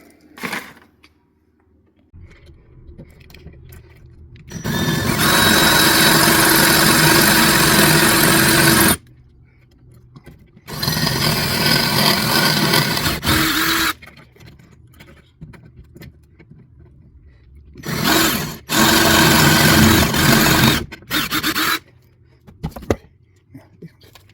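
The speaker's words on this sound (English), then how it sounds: "I'm going to have to drill that out as well. It's a 4mm hole" A power drill drilling a 4mm hole on a Kombi hatch whirs loudly up close in three separate bursts of several seconds each, with quiet pauses and faint handling noises in between.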